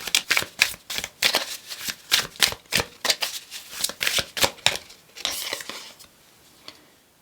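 Oracle cards riffled and shuffled by hand in a quick run of crisp, papery bursts, close and fairly loud, trailing off into a softer slide near the end.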